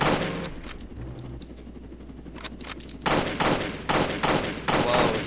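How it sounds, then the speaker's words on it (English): Gunfire in the Roblox game Jailbreak: a few scattered clicks and game sounds, then a burst of several sharp, evenly spaced shots that ring out loud and close near the end, with no talking. "See if I can shoot him down."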